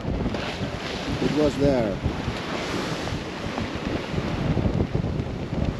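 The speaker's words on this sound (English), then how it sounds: "The waves are getting higher and higher. It's insane. Water being slammed over the boat." Strong wind and high waves striking a sailboat on the North Sea in extreme conditions, a steady loud roar and rush of water with wind buffeting the microphone, and a person speaking briefly.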